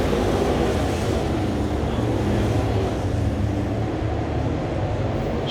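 Dirt late model race cars roar down the back straightaway at Cochran Motor Speedway, a continuous dense engine rumble with wind buffeting, steady and loud throughout.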